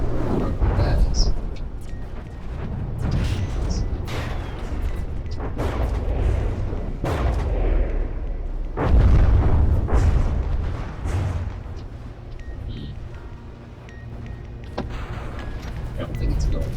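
Warships in the naval combat game From the Depths fire on an opposing fleet, producing repeated booming artillery blasts and gunfire at irregular intervals over constant low rumble, with some talking.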